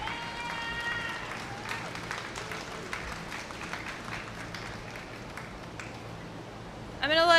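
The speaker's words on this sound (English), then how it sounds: "Let's give these junior exhibitors out here a big round of applause." Audience applause for junior exhibitors at a 4-H/FFA dairy cattle showmanship event at the Maryland State Fair: scattered, moderately loud clapping from a crowd in a large space, with a short, louder burst of sound at the very end.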